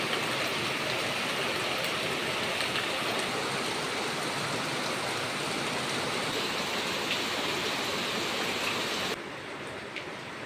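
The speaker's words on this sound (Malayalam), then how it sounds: "അത്യാവശ്യം നല്ല മഴയുണ്ടായിരുന്നു" Heavy rain pours steadily as a dense, continuous hiss close by on an early morning, holding loud and even for about nine seconds before dropping slightly softer near the end, with no talking.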